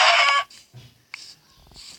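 Synthetic chicken clucks and squawks in short bursts as the chicken is killed in a video game, quick game-style sound effects with brief gaps between them.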